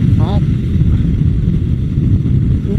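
A sixth-generation Yamaha Cygnus Gryphus scooter sweeps through a high-speed corner on a race track, its engine a loud, continuous droning rumble mixed with wind noise from a first-person riding position.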